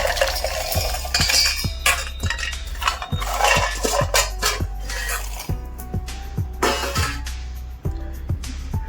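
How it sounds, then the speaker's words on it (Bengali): Roasted peanuts are tipped into a mixer grinder jar, making a run of sharp clicks and rattling clinks against the hard container, close and fairly loud, with some utensil knocks mixed in. "আগে থেকে ভেজে রাখা বাদামগুলোকে একটু ঠান্ডা করে আমি মিক্সির জারে দিয়ে দিচ্ছি"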